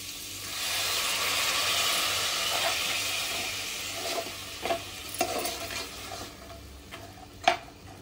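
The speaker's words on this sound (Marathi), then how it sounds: "आता पाणी घालूया." Water poured into a pan of frying vegetables for a dry curry gives a steady, close sizzle and hiss that slowly fades, broken near the end by a few sharp stirring clinks.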